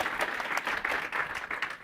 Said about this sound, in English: Everyone, please give James a warm round of applause.